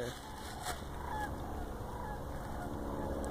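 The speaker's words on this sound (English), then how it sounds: "Those are seriously seagulls." Seagulls call from the air behind trees, their faint high cries repeating over a steady outdoor background hiss.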